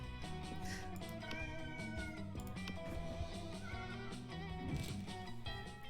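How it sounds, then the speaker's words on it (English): A cat yowls and screams continuously close to the microphone, drawn-out wavering cries overlapping one another with no speech. "I'm sorry if people hear my cat screaming."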